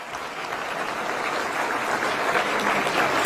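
Applause at a public event attended by Delhi ministers, a crowd clapping continuously and building slightly in strength, dense and steady with no voices on top.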